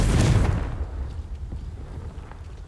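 A Confringo fire spell explodes in Hogwarts Legacy, a heavy, close boom at the start that rolls off into a rumbling, crackling decay.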